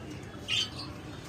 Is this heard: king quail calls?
yes